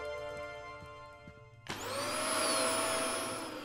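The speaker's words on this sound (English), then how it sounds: "A vacuum cleaner?" A vacuum cleaner in the video game Kill It With Fire switches on partway through and roars loudly and steadily after a quieter stretch of tonal game background, with no talking.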